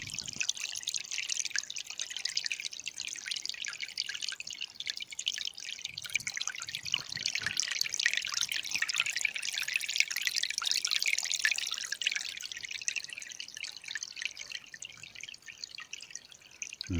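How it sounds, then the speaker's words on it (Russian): A babbling stream trickles and burbles steadily with dense, bright splashing and dripping water sounds, continuous and fairly close, with no voices. "Реально прям говорящий ручей."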